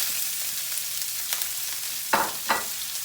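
Sliced onions fry in the fat left over from meatballs for a Turkish sulu köfte stew, giving a steady close sizzle with two louder scraping stirs near the end and no voices.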